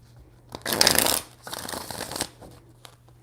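Tarot cards shuffled by hand in two riffling bursts, the first louder and longer, the second softer, close and alone with no talk.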